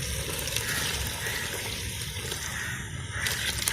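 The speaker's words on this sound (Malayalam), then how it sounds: "വെള്ളം ഒഴിച്ചു കൊടുക്കാണ്." Water is poured steadily into a pan of egg roast curry, a continuous rushing, splashing stream that stays close and even for a few seconds.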